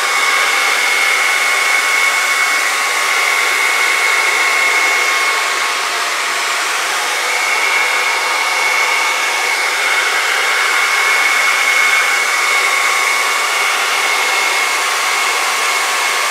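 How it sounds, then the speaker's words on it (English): A hair dryer blows continuously at high power over fluid acrylic paint during a pour painting, a loud steady whirring rush with a faint high whine, and no one speaks. "Helps if you don't stick the blow dryer right into the piece."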